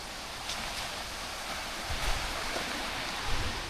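Stream water rushes steadily at Areeckal waterfall near Piravom, a broad continuous wash with a few soft surges and light wind buffeting.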